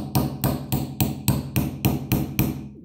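A hammer strikes metal in a steady rhythm of about eight sharp, ringing blows, tapping a screw to drive copper out of an electric motor, close and loud with no talking.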